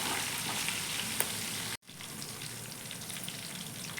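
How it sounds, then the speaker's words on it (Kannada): Ginger frying in a pan for pongal, a steady close sizzle that cuts out briefly near the middle and then resumes just as evenly. "ಶುಂಠಿ ಹಾಕೊಳ್ಳೋದ್ರಿಂದ ಒಳ್ಳೆ ಟೇಸ್ಟ್ ಆಗಲಿ,"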